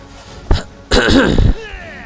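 A character in the video game Thronebreaker clears the throat and coughs: a short burst near the half-second mark, then a longer, louder rasping cough run lasting about half a second, close and clear with no other talk.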